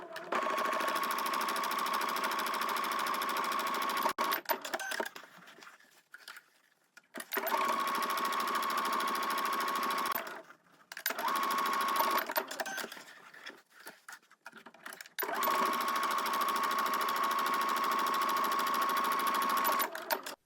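A sewing machine stitches the seam allowance on a dress lining in three long, steady runs of even whirring, with short pauses between them, close and clear with no talking.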